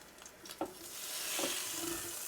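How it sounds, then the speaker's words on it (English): A ribeye steak is flipped on a Ninja Foodi grill, starting with a brief clunk and then settling into a rising, steady close sizzle with no one talking. "We're going to go ahead and flip this steak"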